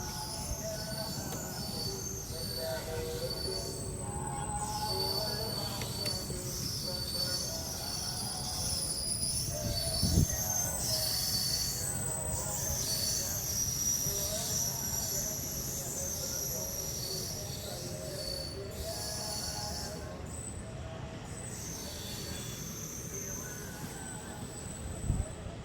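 A train rolls along the track near Vellayani toward Nemom terminal station in south Trivandrum, a steady close rumble with a high wheel squeal that runs through the whole passage, plus a couple of sharper knocks.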